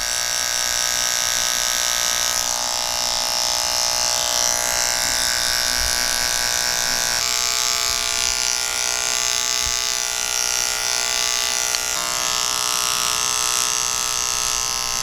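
Electric hair clippers buzz steadily and loudly while the blade corner notches a skin fade into the weight line at the back of the head, a continuous whine with no talking.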